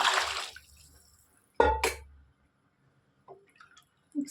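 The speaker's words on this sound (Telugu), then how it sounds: "ఒక గిన్నెకి గిన్నెన్నర పోస్తున్నానండి తగ్గించి పోస్తున్నాను నీళ్ళు" Water is poured into a cooking pot while making chicken pulao, heard as a short splashing rush, a pause, then a second brief gush with faint clinks of the vessel afterward.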